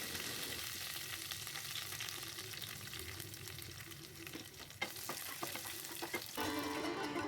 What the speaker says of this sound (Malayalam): ഉണക്കമുളകും കരിവേപ്പിലയും അല്പം ഇഞ്ചിയും വെളുത്തുള്ളിയും കൂടി ഇട്ട് കൊടുത്ത് ഇളക്കാം